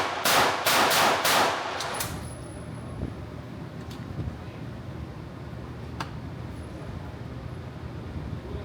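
A burst of several rapid gunshots from an AlphaFoxtrot Romulus pistol at an outdoor range, loud and close in the first two seconds, followed by a long quieter stretch of ambient range noise with a faint distant pop.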